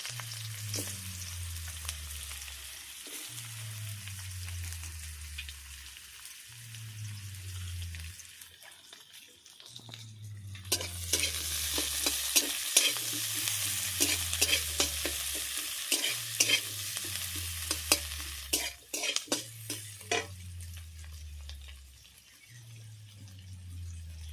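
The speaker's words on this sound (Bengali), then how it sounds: "পেঁয়াজ ভাজা হয়ে গেছে" Chopped onions frying in a pan produce a constant sizzle, while a spatula scrapes and stirs in a regular repeating rhythm, close and steady, briefly quieter midway before the frying swells louder.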